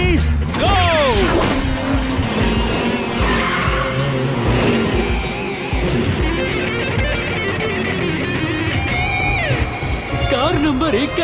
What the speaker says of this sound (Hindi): कार नंबर 1 का इंजन हो गया है जाम। अब वो पलटेगी धाम धाम और धाम।